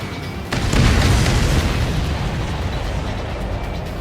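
Missiles exploding in the Ace Combat 7 aerial combat game: a loud, sustained, rumbling boom that swells abruptly about half a second in and rolls on heavily to the end, with no voices.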